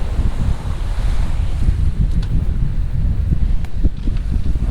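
Ocean waves and steady wind roar around a sailboat running dead downwind on an Atlantic passage, surfing down bigger swells; dense, continuous wash with buffeting wind noise on the microphone and no talking.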